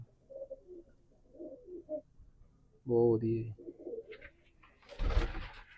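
Pigeons coo in a loft, a short loud burst of throaty cooing standing out midway, with softer bird calls around it and someone speaking Punjabi over the birds.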